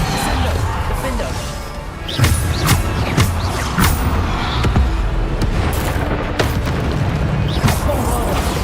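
Bombarda explosion spells in the video game Hogwarts Legacy, with repeated booming blasts and crashes in dense, noisy combat over a loud, continuous game soundscape.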